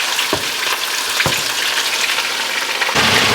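Burgers fry in a hot pan, searing to a crust with a loud, steady sizzle and crackle and a few sharp pops, heard close with no talking.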